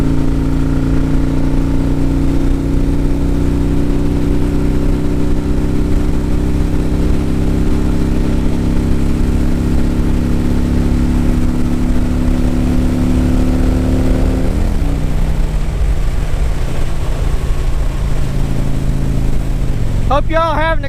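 Harley-Davidson Dyna and Street Glide motorcycles accelerate uphill, a loud, steady low engine drone with rising revs and a brief shift midway, close up with wind rush throughout.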